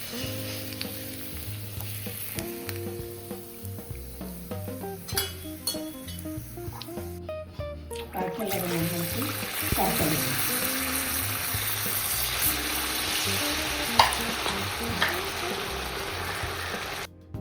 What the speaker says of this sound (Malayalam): നമ്മുടെ ഉന്നക്കായ എല്ലാം വറുത്ത് കോരി കൊണ്ടുവന്നിട്ടുണ്ട്